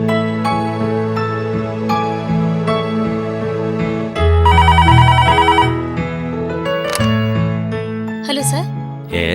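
A telephone rings indoors in a Telugu TV serial scene, its repeated electronic ring rising clearly over background music for a couple of seconds.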